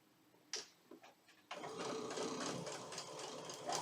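A sewing machine stitches quilt blocks together with a steady, fairly quiet mechanical whir that starts after a few soft clicks and handling sounds, then runs continuously.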